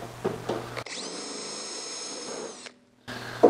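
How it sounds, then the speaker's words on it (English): A power drill bores out aluminum pop rivets on a car door under restoration, one steady whine lasting about two seconds, close and loud, with brief tool noise before and after and no talking. "So we'll drill these pop rivets out."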